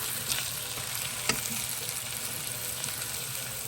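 Ampalaya (bitter gourd) with egg frying in a pan, a steady crackling sizzle with occasional louder pops, close and continuous without talk.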